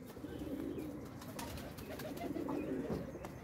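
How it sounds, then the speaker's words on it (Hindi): Teddy pigeons coo softly and continuously nearby, a low rolling murmur of overlapping calls with no one speaking. "टैडी कबूतर है वो सारे"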